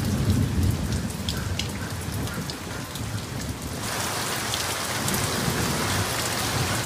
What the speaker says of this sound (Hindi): बारिश में हवा भी तेज चल रही थी